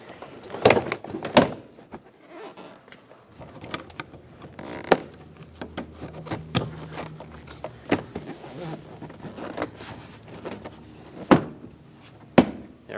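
Plastic interior door panel on a 2008-2010 Ford F-450 Super Duty being worked along its edge, with scattered sharp clicks, pops and knocks of trim clips amid handling rustle, close and fairly quiet.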